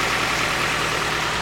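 A tuned Mazda MX-5 engine runs with a loud, close, steady roar of throttle, a single sustained burst with no voices.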